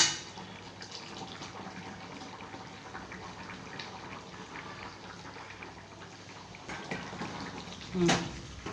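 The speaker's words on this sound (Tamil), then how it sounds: "ஒரு கொடி கொதிக்கட்டும் கொதிச்சோன்னா ஆஃப் பண்ணிடலாம்" A pot of pachadi bubbles and simmers softly at a steady low level, with a brief louder clink near the end.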